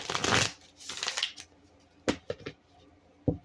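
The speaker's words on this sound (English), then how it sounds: "I'm just going to throw some more cards and see what happens" Tarot cards riffle in two quick, close shuffling bursts, followed by a few sharp slaps as cards are tossed down onto a surface.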